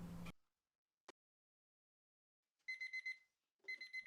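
A kitchen timer goes off, set for 30 minutes while bread dough proves in a warm oven with only the light on. It gives two short bursts of quick, bright beeps after a near-silent pause, faint and alone with no talk.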